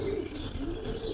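Lovebird giving soft cooing calls and short chirps, fairly close, in a steady run with no pause and no talk over it.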